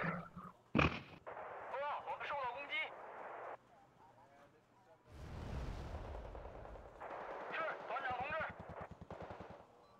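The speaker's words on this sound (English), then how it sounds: "Go, machine guns, go!" Machine gun fire in the Wargame: Red Dragon strategy game, loud bursts of rapid shots and a sharp blast, mixed with game effects and an excited voice talking over it.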